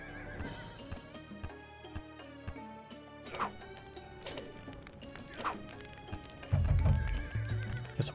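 Horses in a strategy video game whinny several times over a soundtrack of clip-clopping hooves and thumps, the neighs repeating at intervals, with a louder rumbling burst near the end.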